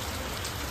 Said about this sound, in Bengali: কত বৃষ্টি, বারিশ বারিশ